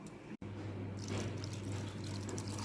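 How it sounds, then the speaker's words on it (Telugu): Half a cup of water poured into beetroot, carrot and tomato juice, a steady liquid trickle with a faint low hum beneath, starting after a brief dropout and holding for a couple of seconds. "1/2 కప్ వాటర్ వేసాను."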